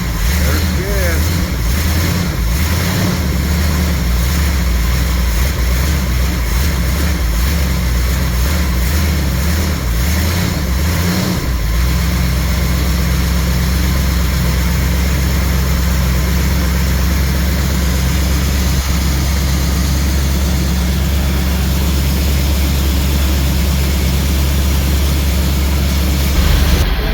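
A 1969 Chrysler 300 V8 engine, repowered and revived with its factory fuel system, cranks and runs, a steady deep low rumble that grows heavier partway through and holds loud and close to the end, with people speaking over it.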